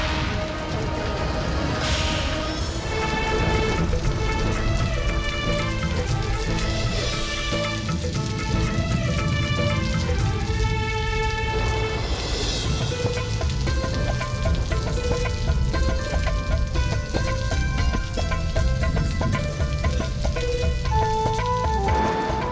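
Steady rain pours down in a historical drama scene, continuous and fairly loud, mixed with background music throughout.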